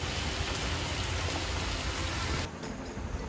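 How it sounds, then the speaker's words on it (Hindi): Heavy rain pours down steadily in a dense, loud downpour, running almost unbroken before easing slightly near the end, with no one speaking. "कितनी घनघोर बारिश हो रही है, बहुत तेज़ बारिश हो रही है"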